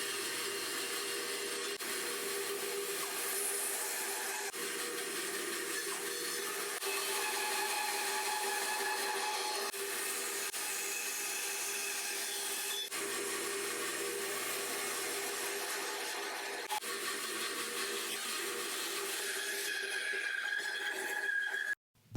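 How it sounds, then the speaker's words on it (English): A bandsaw cuts through a wood burl with a steady, continuous whine and hiss that holds for over twenty seconds, close and alone, then stops abruptly at the end. "First, the burl must be cut to fit on the lathe. The bandsaw is perfect for this."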